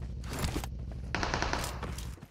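Bursts of rapid gunfire in the video game PUBG Mobile crackle in quick succession, sharp and fairly close, with brief gaps between volleys.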